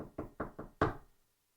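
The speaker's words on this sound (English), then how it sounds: "There was a knock at the door." Four sharp knocks on a door, a steady run of three raps then a final louder one, close and clear with no voices.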